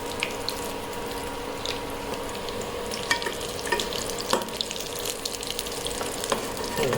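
Egg chops fry in hot oil with a steady, even sizzle, broken by scattered pops and light stirring clinks, close and moderately loud with no talking.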